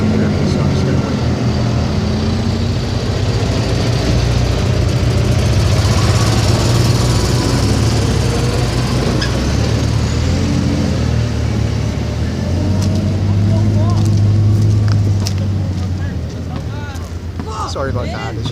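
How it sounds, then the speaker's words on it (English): Loud trucks pass by outdoors, a continuous heavy engine rumble swelling and fading over several seconds with wind noise on the microphone; no one speaks. "I just didn't want the noise of those trucks to not let me hear"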